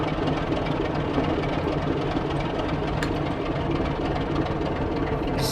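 A Class 24 diesel locomotive, D5081, in Train Simulator 2020 runs with a heavy, steady engine drone and knocking pulse, continuous and moderately loud with a brief sharp tick partway through, with no talking.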